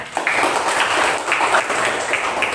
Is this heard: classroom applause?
yes